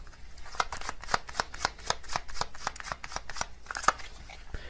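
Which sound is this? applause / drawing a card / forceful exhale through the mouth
drawing a card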